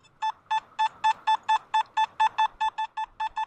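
A Nokta Makro Simplex metal detector responding to a Barber silver dime in an air test, sounding a rapid, even series of about fourteen short high electronic beeps, clear and close.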